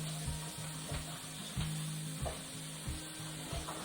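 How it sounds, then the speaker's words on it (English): Steady frying sizzle of roast meat searing in a pan, with repeated clinks and scrapes of a utensil stirring at a loose, regular rhythm. "Got a nice sizzle going there."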